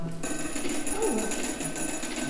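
A Soviet-era hand-cranked field telephone in a Moscow bunker rings with a steady metallic bell tone, close and moderately loud, with a faint rising whine from the crank mixed in.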